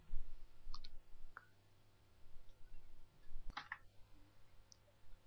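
A few quiet mouse clicks in shipping software, sparse and sharp, including a double click, over a faint steady background hum.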